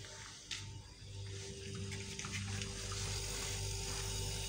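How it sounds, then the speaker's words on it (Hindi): A running refrigerator compressor gives off a steady low hum with a faint mechanical whir, continuous and fairly quiet, heard close by with no one talking. "मैं आपको इसकी साउंड भी सुनवाता हूँ, जो कंप्रेसर की साउंड है वो ऐसी होनी चाहिए"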